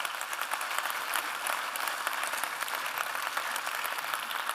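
Conference audience at a startup event in Europe applauding sponsors, with steady, even clapping from a large hall crowd, moderately loud and continuous, no voices over it.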